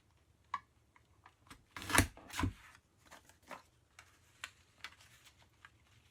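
Scissors cutting thin decorative paper for a scrapbook page: a string of sharp, close snips and rustles, with two louder crunching cuts near the middle and lighter clicks trailing after.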